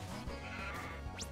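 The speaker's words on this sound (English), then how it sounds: "Oh my gosh, it's a sheep." A sheep Pokémon in the video game Pokémon Uranium gives a single synthetic bleat over steady game music, with a rising chirp near the end.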